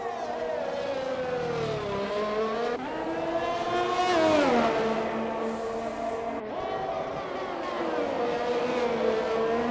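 High-pitched Formula 1 race car engine from the F1 2021 video game at the Monaco street circuit, whining continuously with rising and falling revs through gear changes, loud and unbroken with no speech.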